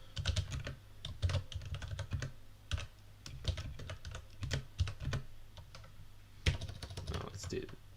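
Code being typed on a computer keyboard, rapid close key clicks in uneven bursts with short pauses, over a low steady hum.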